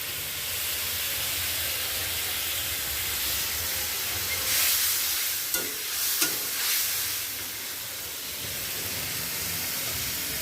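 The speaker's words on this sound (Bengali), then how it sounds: "এখন হচ্ছে এই তেলটুকু আমি দিয়ে দেবো এটার মধ্যে আবার কাঁকরোলগুলো ভাজবো" Teasel gourds frying in hot oil give a steady, close sizzle and hiss that swells briefly in the middle with a few soft knocks from stirring, with no voices.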